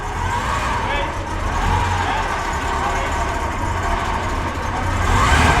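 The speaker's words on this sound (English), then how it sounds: "Listen to that 8-cylinder engine." Ferrari Europa eight-cylinder engine running at a concours, a steady, fairly loud, close mechanical drone that builds slightly toward the end.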